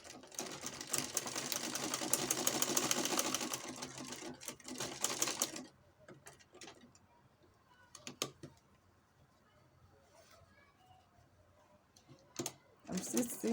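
A sewing machine stitches fabric for a pair of handmade shorts in a rapid, buzzing run of about five seconds. It then falls quiet apart from scattered clicks and short bursts, with a voice talking nearby.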